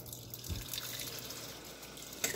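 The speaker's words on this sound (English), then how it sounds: "Now you can rinse the turkey" Tap water runs steadily into a sink while rinsing a Thanksgiving turkey, a quiet continuous splashing flow with faint handling sounds.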